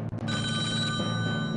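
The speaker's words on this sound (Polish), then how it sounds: "Jest telefon" A telephone rings with a steady, bright electronic bell tone. It sounds loud and continuous for a moment, with a couple of brief dropouts at the start and no voices.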